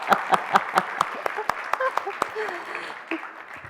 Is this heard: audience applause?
yes